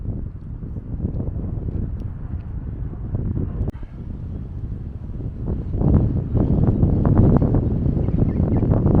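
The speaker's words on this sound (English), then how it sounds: "Wind's picked up a bit." Wind buffets the microphone at a picnic area car park in France, a low, continuous rumbling roar that swells stronger in the second half.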